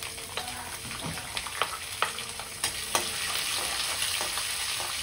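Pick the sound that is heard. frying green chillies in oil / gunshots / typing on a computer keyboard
frying green chillies in oil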